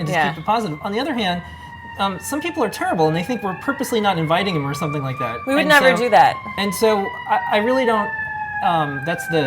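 An emergency vehicle siren on a busy street corner, a faint wailing tone that slowly falls in pitch in the background while someone talks continuously over it.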